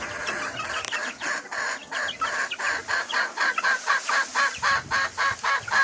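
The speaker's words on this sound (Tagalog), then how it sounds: "Malaking manok." A large white Kelso rooster clucks close by in a quick, repeating rhythm, the calls growing more regular toward the end, with no talking.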